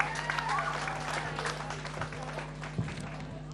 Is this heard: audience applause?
yes